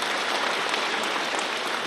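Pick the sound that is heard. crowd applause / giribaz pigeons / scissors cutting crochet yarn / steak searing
crowd applause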